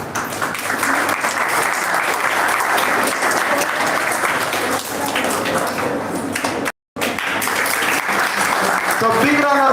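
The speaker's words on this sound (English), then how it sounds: "So big round of applause for sir." Loud, sustained applause from a workshop audience welcoming a guest, dense clapping broken by a brief dropout, then resuming.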